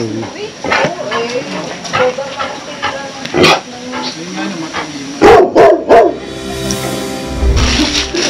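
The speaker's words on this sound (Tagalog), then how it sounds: "Baka yung aso." A dog barks in short bursts outdoors in an overgrown yard, loud and close at times, with people talking around it.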